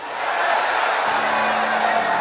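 A church congregation in a gymnasium raises a loud, sustained collective shout of glory, a dense wash of many voices cheering together throughout.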